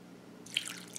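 Water poured into corn syrup for candied grapes: a brief splash and trickle starting midway, quiet and close, after a moment of near silence.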